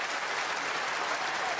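A snooker crowd at the 2017 Welsh Open semi-final applauds Stuart Bingham's century break, a steady, dense patter of clapping from the arena audience.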